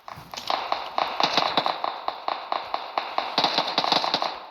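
Rapid gunfire in PUBG Mobile while shooting an enemy, a steady run of loud close sharp shots in quick rhythm throughout.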